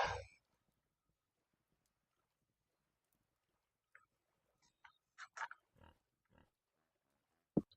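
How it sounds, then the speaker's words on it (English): Pig in the game Vintage Story grunting faintly, a few short low grunts scattered over a mostly quiet stretch. "Oh, it sounds like we've got another pig."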